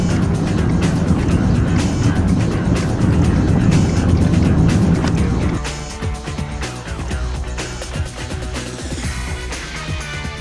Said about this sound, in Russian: Сейчас вот еду домой, буду лучше смотреть, что у меня за стук там сейчас.